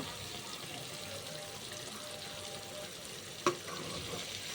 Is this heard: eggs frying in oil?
yes